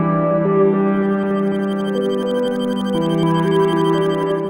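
Moog Messenger monophonic analog synthesizer playing a sustained, buzzy bass-heavy tone with slow pitch changes, loud and close with no voices.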